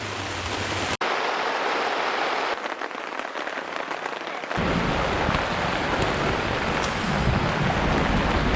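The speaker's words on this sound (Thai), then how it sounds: "ฝนตกหนักมากเลยนะฮะ" Heavy rain pours down steadily at Khlong Ma Duea in Nakhon Nayok, Thailand, a loud, dense hiss that drops back briefly and then swells even heavier. No voices can be heard.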